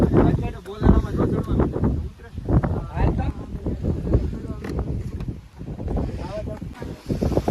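Strong wind buffets the microphone in loud, uneven gusts on Sana Dungar hill, with a voice speaking intermittently underneath.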